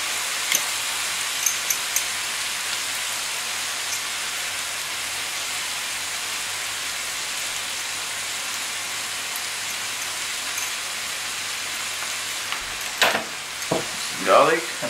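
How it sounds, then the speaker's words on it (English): Pork pieces sizzle in a cooking pan with salt, a loud continuous crackling fry for the whole stretch, with a few sharp clinks and scraping stirs near the end. "I'll return the meat back into the cooking pan and I add some salt."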